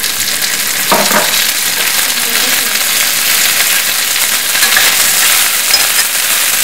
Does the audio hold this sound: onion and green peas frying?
yes